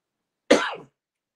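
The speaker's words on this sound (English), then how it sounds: "I didn't cough all day till I got up here." A single short, harsh cough, close by, in otherwise quiet surroundings.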